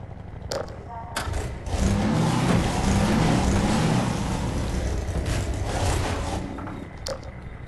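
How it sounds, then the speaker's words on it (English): In a video game, a car engine revs and drives forward through a muddy rumble, with a few sharp knocks and impacts as it pushes through an obstacle. "Okay, we probably have to smash through this with the car."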